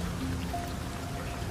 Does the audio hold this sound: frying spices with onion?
no